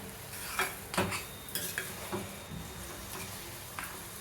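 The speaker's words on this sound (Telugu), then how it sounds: "ఒక ఫైవ్ మినిట్స్ టెన్ మినిట్స్ ఇలా కలుపుతూ ఉండాలి అనమాట" Carrot and palkova halwa is stirred in a pan with a soft background sizzle, broken by a few scattered scrapes and light clinks from the utensil.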